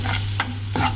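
A spoon stirs a turmeric and chicken masala mixture in a hot pan, making a brief close scrape and sizzle with two quick strokes.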